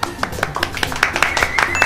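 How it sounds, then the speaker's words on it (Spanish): A small group claps in a short, close burst of applause for a guest at the start of a food show, with voices under the clapping. "Aplausos."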